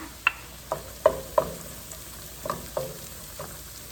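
Garlic frying in a pan with browned ingredients for tuna pasta, a low sizzle broken by sharp clacks of stirring, about seven distinct hits, close and without talk.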